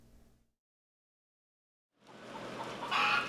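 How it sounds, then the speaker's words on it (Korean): A flock of hens and roosters mills about inside a roomy animal-welfare farm building, giving a dense, close murmur of clucking that swells after a brief silence. "널찍한 농장 건물 안에 암탉과 수탉 수천 마리가 어울려 자유롭게 돌아다닙니다."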